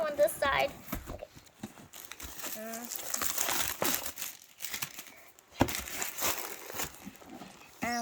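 Plastic packaging of a NOCO Boost X GBX155 booster pack being opened, with close crinkling and tearing sounds coming in irregular bursts while people talk throughout.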